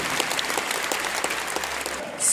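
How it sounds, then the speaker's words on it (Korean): Audience applause at a church convention in Jeju's ICC convention center welcomes a pastor to the stage: steady, dense clapping from a large crowd for about two seconds, then fading out. "큰 박수로 환영해 주시기 바랍니다"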